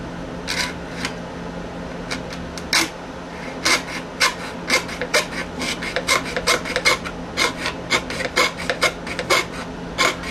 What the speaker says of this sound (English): I'm going to go ahead and use my very fine jeweler saw because I want a very nice, clean, crisp line.